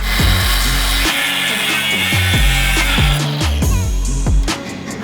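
A loud power tool cuts off a brand-new radiator mount on an old project car, a continuous harsh grinding whine that rises and falls in pitch in a repeating pattern as the cut bites.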